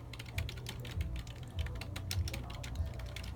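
Fingers tap quickly on a flat, low-profile computer keyboard in an office, a dense run of light clicks with a few heavier thumps at roughly regular intervals, quiet and close.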